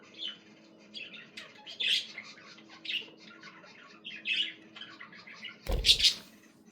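A budgie chirps steadily in quick bright bursts, with a few sharper squawks and a louder scratchy flurry near the end, close by in a quiet room.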